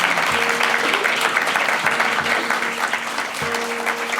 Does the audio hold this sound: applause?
yes